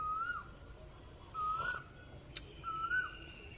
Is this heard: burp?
no